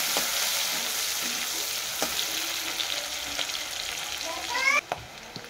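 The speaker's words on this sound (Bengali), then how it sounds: "পেঁয়াজ কুচি দেবো, লাল লাল করে ভেজে নেবো" Chopped onions fry in a pan with a steady, close sizzle and crackle, punctuated by a few soft clinks and stirring scrapes.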